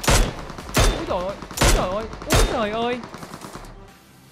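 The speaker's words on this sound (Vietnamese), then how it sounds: "Bắn UMP là gắt này" UMP submachine gunfire in PUBG Mobile comes as four sharp bursts roughly a second apart, loud and close, with a voice exclaiming between the shots.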